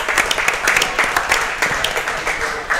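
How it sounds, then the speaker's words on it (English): An audience at a live podcast recording at Brooklyn Heights claps steadily for the venue, a dense, close wash of hand claps that holds without a break. "Let's get a big round of applause for Brooklyn Heights for hosting us"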